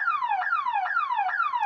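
A car alarm on a van in the Roblox video game wails in loud, steady cycles, each tone sweeping downward and restarting about every half second, with no voices.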